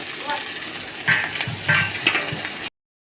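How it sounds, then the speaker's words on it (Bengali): Mustard flowers fry in a pan with green chilies and are stirred, giving a steady hiss of sizzling oil broken by a few scraping, knocking strokes of the utensil against the pan before it cuts off abruptly. "এটা একটু ভাজা ভাজা করে নিতে হবে সর্ষে ফুলগুলো এর মধ্যে দিয়ে দেবে"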